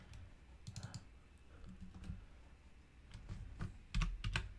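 Quiet bursts of computer-keyboard typing come in short irregular runs of key clicks, close but soft against a faint room hiss.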